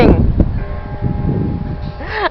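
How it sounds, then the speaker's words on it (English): Bell ringing in the distance behind a close voice and wind noise, a sustained resonant tone under the speech. "the bell's ringing."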